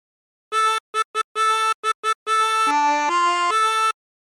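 Chromatic harmonica playing a Drunken Sailor phrase: a run of short repeated reedy notes on one pitch, then longer held notes stepping down and back up, clean and close with no other sound.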